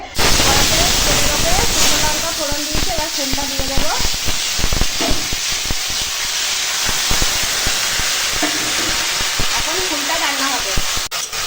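Pumpkin flowers coated in salt and turmeric frying in a kadai, a steady loud sizzle and hiss throughout with someone talking over it.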